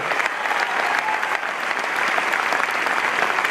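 A crowd claps continuously, dense and even applause filling the space for several seconds without a break.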